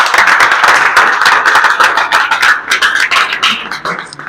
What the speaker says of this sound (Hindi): एक बार ताली बजा दीजिए आप लोग